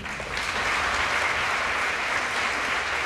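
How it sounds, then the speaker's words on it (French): Steady, continuous applause from the audience for four speakers at an institutional round table on circular economy in building, a dense even wash of clapping without voices. "je vous remercie par contre dès maintenant de les applaudir tous les quatre"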